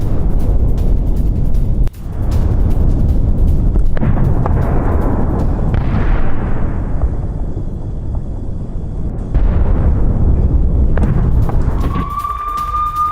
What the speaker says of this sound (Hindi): जरा तस्वीरें देखिए और धमाके की आवाज सुनिए।